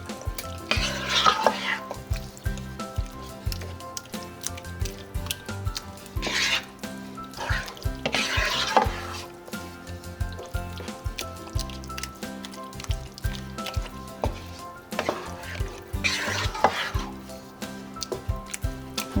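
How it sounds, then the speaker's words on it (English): Ground beef frying in tomato sauce in a pan, stirred and broken up with a utensil: continuous sizzling under repeated scraping and tapping strokes, with louder bursts of stirring every few seconds. "I'm gonna mix all of this really good. I'm just gonna continue to break the big lumps"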